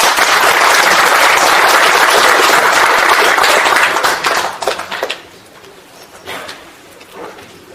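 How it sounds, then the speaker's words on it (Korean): A crowd at a seminar in the Korean National Assembly applauds steadily to welcome a speaker, with dense overlapping clapping that fades out after several seconds, leaving a few scattered claps. "큰 박수로 맞이해주시죠."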